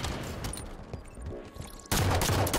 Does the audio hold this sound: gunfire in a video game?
yes